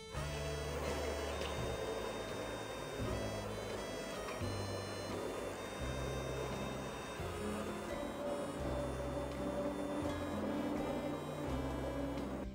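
An immersion blender whirs as it blends food in a pot, giving a steady motor whine with a churning low pulse that rises and falls throughout.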